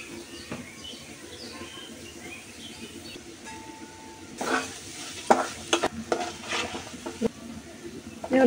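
A spoon scrapes and stirs coconut filling sweetened with jaggery in a pan on the stove for a winter pitha. Soft sizzling runs under irregular, close, clattering scrapes that grow busier and louder toward the end.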